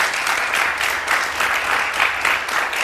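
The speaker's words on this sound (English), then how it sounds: "A round of applause for my speakers." An audience at a health talk show applauds its speakers, a full, steady round of clapping from many hands, close and loud, with no break.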